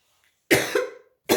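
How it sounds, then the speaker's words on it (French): Two short, dry coughs from a woman at a scrapbooking table, close to the microphone, the first one longer with a quick double burst, the second following after a brief pause. "Je tousse toujours, oui."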